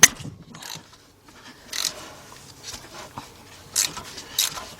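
A ratchet loosening exhaust manifold bolts on a 2001 Chevy Tracker with a 2.5 engine, a few quick bursts of clicking pawl and metallic tool handling spaced across the clip, close and fairly quiet.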